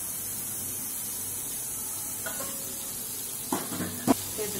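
Curry leaves and green chillies sautéing in a pan for chana masala, a faint steady sizzle with a few sharp clinks of a spoon against the pan near the end.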